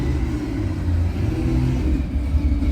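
Steady low rumble and road roar inside a Lucid Air electric sedan while driving, a continuous dense hum with faint whir, no voices.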